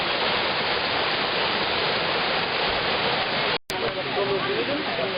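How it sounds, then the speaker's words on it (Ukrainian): Small waterfalls at Zhenets waterfall in the Carpathians, swollen after rains, roar in a steady, close, broadband rush of falling water, briefly cut by a momentary dropout. "ви бачите, що настільки багато з'явилося нових невеличких водоспадів"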